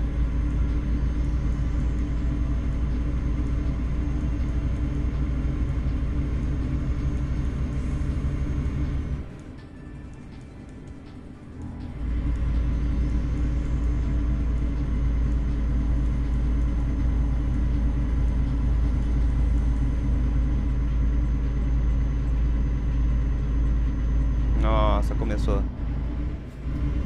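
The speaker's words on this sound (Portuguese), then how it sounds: "Morre não, caminhão. Bora, sobe." A small truck carrying a heavy load of sand labors with a loud, steady low engine drone and rumble, dipping briefly midway before resuming its strained roar, with a short rattling clatter near the end.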